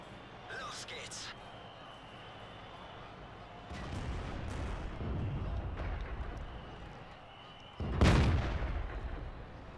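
A tank cannon fires in the World of Tanks video game, a heavy booming blast near the end that stands out from a steady rumbling background, with a smaller thud a few seconds earlier.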